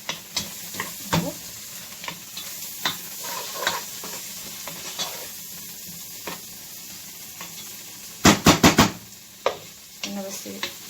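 Onion, grated tomato and carrot sizzle steadily in a frying pan while a utensil stirs and scrapes, with a burst of sharp clatter near the end; a voice occasionally speaks over the cooking.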